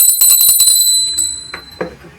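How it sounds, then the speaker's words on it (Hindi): A small brass puja bell rings in quick repeated strikes during Hartalika Teej worship, bright and close, then the ringing fades into a few softer rattles and a short voice. "थोड़ा सा घंटी बजा दीजिए"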